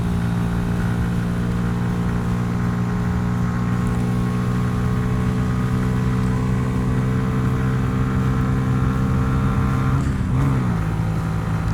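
A Honda CB125F 125cc motorcycle engine drones steadily at speed, a loud continuous hum with wind rush, its pitch holding high before a brief dip and shift near the end as the bike strains for more speed.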